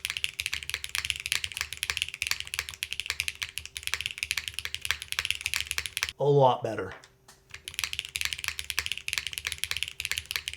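Rapid clacky typing on a 65% mechanical keyboard with an aluminum plate, close and steady, interrupted once by someone speaking briefly before the keystrokes resume.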